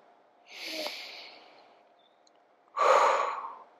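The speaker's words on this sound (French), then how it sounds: "Je respire ici." Two audible breaths during a floor yoga sequence for the shoulders: a softer inhale-like breath near the start, then a louder, fuller exhale toward the end, close and clear with no talking.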